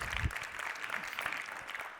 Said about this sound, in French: On peut peut-être applaudir Virginie